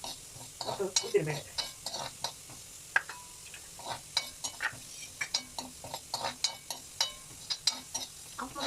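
Urad dal, fenugreek, black pepper and cumin fry in a pan with a soft sizzle. A spatula scrapes and clicks against the pan in a steady, repeated rhythm, close by.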